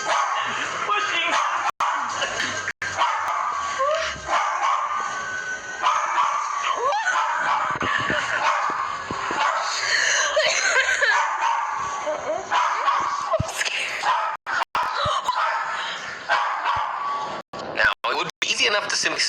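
A frightened dog barks, yips and whines continuously, fairly loud and close, with people talking over it at times.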